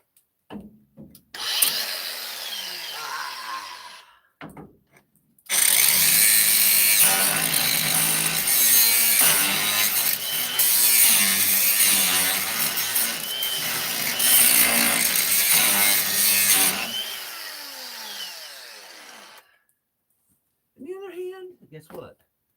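A grinder disc biting into metal while patching holes, a harsh sustained grinding roar lasting about fourteen seconds after a shorter opening burst, loud and close, with the motor winding down at the end.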